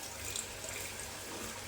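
A small splash of water poured from a vessel into a pot of meat cooking with garlic and ginger, a soft, steady trickling that runs briefly and quietly in a home kitchen.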